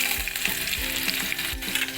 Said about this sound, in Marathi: हे पहा आपलं तेल तापलेलं आहे आपण कांदा टाकू